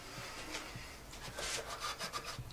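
Rag rubbed and wiped over a motorcycle's brake area to clear spilled brake fluid and brake cleaner, giving steady soft scrubbing strokes close up, with no talking.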